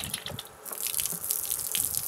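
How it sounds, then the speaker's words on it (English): Water squirts steadily from the quick release fitting of a Briggs & Stratton electric pressure washer with no gun attached, a close, continuous hissing gush with small splashy surges. "So it actually just squirts water no matter what, which is kind of weird."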